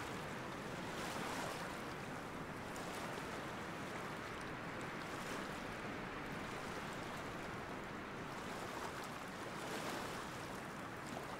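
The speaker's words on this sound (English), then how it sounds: "Aside from the slow lulling of small breaking waves," Small waves break gently and steadily under a grey overcast sky, a soft continuous wash of surf with slow swells and some wind rush, with no voices.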